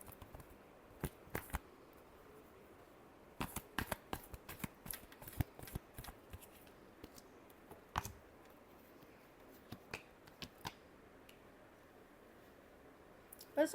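Tarot cards being shuffled by hand, heard as scattered soft riffles and sharp clicks spread irregularly over a quiet, faint background with no talking.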